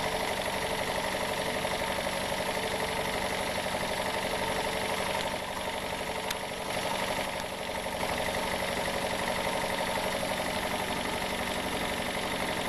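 A Jensen 50 model steam engine runs steadily with a continuous, even mechanical drone and rapid chugging hum, loud and close, with no speech.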